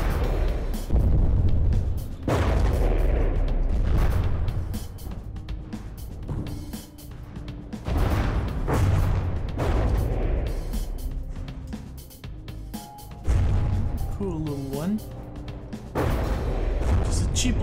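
Missile blasts from the video game Quest For Neter, loud booming explosions rolling in repeated bursts over game music and other effects, with someone talking over them.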